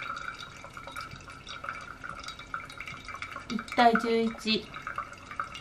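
Coffee dripping steadily during pour-over brewing, with soft drips and trickling heard under a person speaking Japanese throughout.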